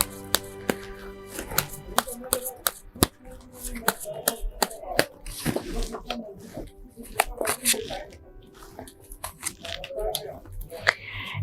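Tarot cards are shuffled by hand before three are drawn, giving close, rapid riffling and slapping with irregular crisp bursts, while someone speaks over part of it.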